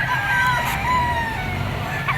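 A tornado hatch stag rooster crows in a loud, sustained call at close range, with a second faint bird call near the end, over low background noise from a chicken market in Padre Garcia, Batangas.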